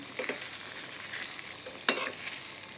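Chopped coriander is stirred into a simmering Kathiyawadi-style potato curry in a pan, with soft scraping and gentle sizzling, one sharper clack of the spoon against the pan partway through.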